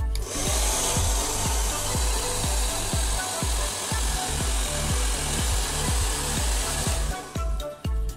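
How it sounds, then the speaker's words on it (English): A handheld hair dryer blows a loud, steady whooshing stream of air close by while a dull rhythmic thumping repeats underneath and slows near the end. "now let's do the hair dryer so that we will see the final look of my hair"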